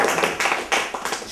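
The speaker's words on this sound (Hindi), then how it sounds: "अपनी तालियां।" A studio audience at a comedy stage show gives a short burst of clapping, a few uneven rounds of claps that swell and fade quickly, with no talking.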